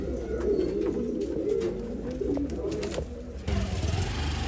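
A male pigeon for sale coos repeatedly at close range, soft rolling low calls in a steady rhythm, with faint background noise and a brief shift in ambience near the end.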